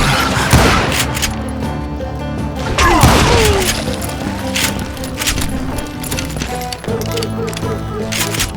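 Dense gunfire from Call of Juarez: Gunslinger, with rapid repeated shots, loud cracks and booms, ricochet whines and echoing blasts layered over game music, and a voice shouting amid the firefight.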